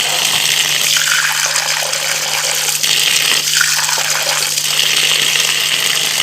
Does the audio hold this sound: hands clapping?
no